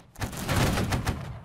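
A musket volley in the Holdfast: Nations at War video game lands as one dense, crackling burst of many shots fired together, loud and close, fading after about a second.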